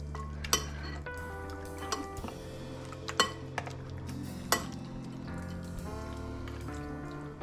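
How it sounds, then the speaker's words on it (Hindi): A spoon mixes chicken pieces in a metal bowl or pot, with a few clinks and knocks of metal over a low hum, close and unhurried, with no talking. "इसको हम चम्मच के साथ मिक्स कर देंगे।"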